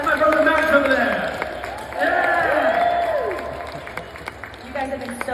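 Audience at a Superman & Lois comic con panel in Manchester clapping and cheering, a steady wash of applause with voices shouting over it throughout.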